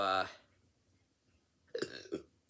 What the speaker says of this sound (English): sorry, I burped there again.